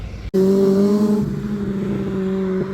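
Motorbike taxi on a city road in Colombo, Sri Lanka, accelerating fast: a loud, close engine drone that holds steady over about two and a half seconds, with no talk.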